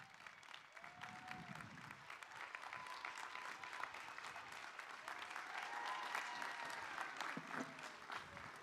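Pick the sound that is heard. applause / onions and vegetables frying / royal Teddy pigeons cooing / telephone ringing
applause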